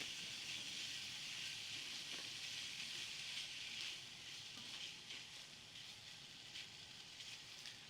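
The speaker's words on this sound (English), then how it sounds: "as our bacon is sitting here sizzling up" Bacon sizzles in a pan over medium-high heat, a soft, continuous crackling hiss with small pops, fairly faint and easing slightly toward the end.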